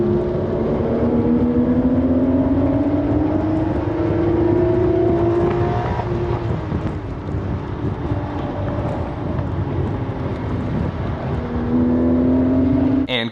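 Loud engine drone of Porsche GT3 sports cars at speed on Sonoma Raceway, pitch rising and falling with gear changes, steady and close throughout with wind noise.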